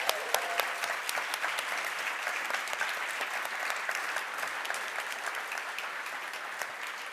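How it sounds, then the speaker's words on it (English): Sustained applause from a large audience at a startup energy transition award ceremony, dense clapping that stays steady and fairly loud throughout. "Let's have another big round of applause for all the startups that pitched today."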